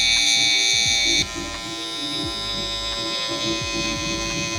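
Close, loud electric hair clipper buzzing steadily during a low taper fade haircut, its pitch dropping slightly a second in as the blades meet hair, with light scraping strokes continuing under the hum.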